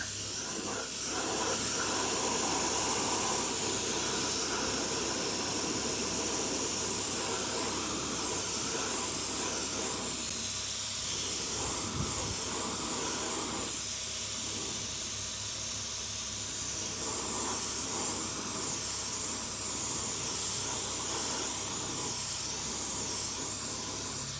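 Paint spray gun hissing continuously while coating the edge of a Stuart model steam engine flywheel, with too much air; a steady close spray with slight dips in intensity throughout.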